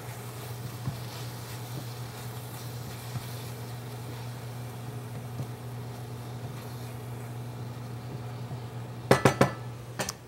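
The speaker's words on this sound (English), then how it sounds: "And we'll stir our beef one more time." A fork stirs beef in a dish, with a few sharp metallic clinks near the end over a steady background hum.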